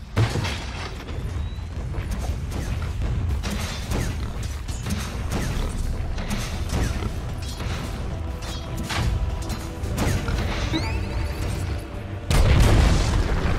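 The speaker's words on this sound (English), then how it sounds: "Dire's top tower is under attack." Explosions and structure destruction from a Dota 2 match as a Dire top tower comes under attack, dense continuous booms and mechanical impacts layered over game music at steady loudness, with a heavier burst near the end.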